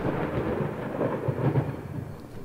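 Thunder and lightning in the video game Secret Doctrine: a steady, deep rumbling roll of thunder over a dense hiss of rain, continuous and fairly close, with no talking.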